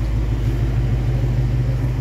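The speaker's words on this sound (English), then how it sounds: "this exhaust note is superb" A 2021 Ford Mustang gives a steady, deep exhaust rumble at a constant level, like a smooth idle heard close by. No voices are heard.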